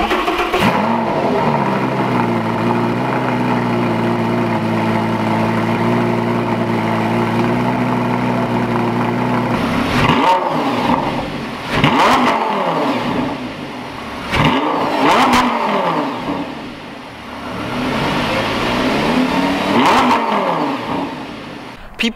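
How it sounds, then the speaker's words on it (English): Lamborghini Gallardo engine and exhaust, loud and close, idling steadily at first, then blipped through a series of sharp revs that rise and fall, each followed by a brief settle back toward idle. "I'll show you guys a sound clip"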